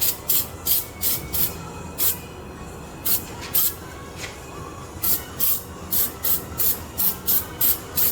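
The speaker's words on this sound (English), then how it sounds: "You want to scuff this thing up a little bit with a Scotch pad." Scotch pad scuffing and cleaner on the engine of a 1929 hot rod during repainting: repeated bursts of harsh, hissy scrubbing strokes in a steady rhythm, close and fairly loud, with no talking.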